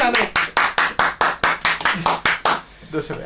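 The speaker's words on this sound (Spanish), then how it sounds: "Aplauso, aplauso a José aplauso" A person claps rhythmically for José, about a dozen sharp, close claps in a steady beat that trails off, with voices heard underneath.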